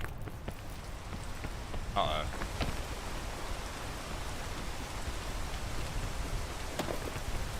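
Steady rain falls within a video game, a dense broadband hiss running the whole time at even loudness, with a brief voiced exclamation partway through.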